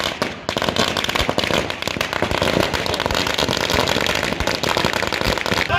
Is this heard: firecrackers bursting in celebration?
yes